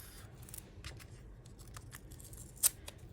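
Scissors snip the backing off washi tape in a series of faint, close, crisp cuts, with one sharper snip near the end, in a quiet room with no talking.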